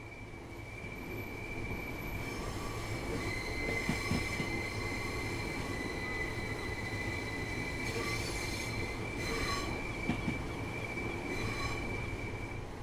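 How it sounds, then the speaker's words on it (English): A Class 377 electric multiple unit runs in the Train Sim World game on the East Coastway line, with a steady rumbling roll, rhythmic wheel clatter and intermittent high wheel squeal throughout. "You're currently riding a Class 3774 electric multiple unit."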